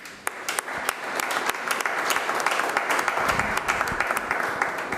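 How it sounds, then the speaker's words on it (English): An audience at a business report launch gives a round of applause, a dense, even burst of many hands clapping for about five seconds with no talking. "Let's give a round of applause again."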